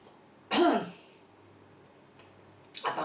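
A single harsh cough and throat clear from spicy food powder, close and loud, followed by quiet, then another short rough burst at the end.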